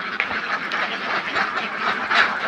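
A flock of about a thousand ducks on a duck farm, housed in a sand-floored shed, quacking in a dense, continuous chorus of overlapping calls, loud and close, with no talking.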